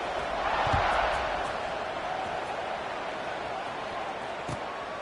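Football stadium crowd roaring before a kickoff return, a broad sustained wash of cheering that swells early and then holds steady, with a couple of brief thumps.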